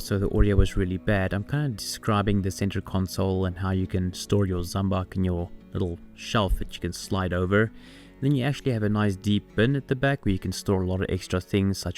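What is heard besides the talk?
No everyday noise stands out behind the speech.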